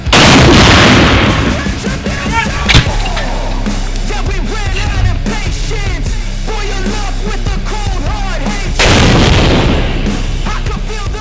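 Artillery firing on an enemy mortar section near Bakhmut, with heavy booming blasts at the start and near the end, sharp reports between, and someone talking over the rumbling aftermath.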